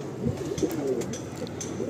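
Pigeons in a loft coo continuously in a low, throaty chorus that stays close and steady, with no speech.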